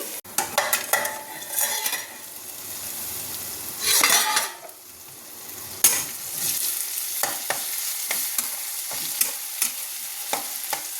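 Carrot and raw banana fry cooked with turmeric on a low flame, giving a close, steady sizzle broken by repeated scraping and clinking of a spatula against the pan as it is stirred, with no talking.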